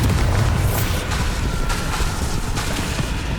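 A Bombarda spell blast in Hogwarts Legacy on Nintendo Switch, a heavy rumbling explosion with deep booming low end that rolls on steadily for a few seconds, loud and close.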